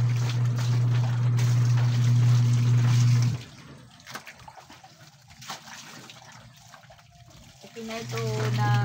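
Water runs and trickles as laundry is washed by hand, with faint splashing and sloshing between stretches of a low, steady hum that stops and then returns near the end.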